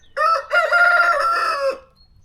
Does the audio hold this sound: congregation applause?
no